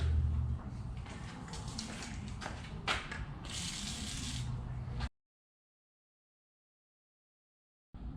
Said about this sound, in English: I'm going to go ahead and spray that with some PB Blaster